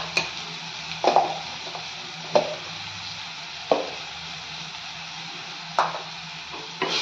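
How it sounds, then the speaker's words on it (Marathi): Ginger garlic paste fries with onions in a pan, giving a steady low sizzle punctuated by a handful of separate spatula knocks and scrapes against the pan. "आलं लसणाच्या पेस्टचा कच्चापणा जाईपर्यंत ही पेस्ट कांद्यात छान"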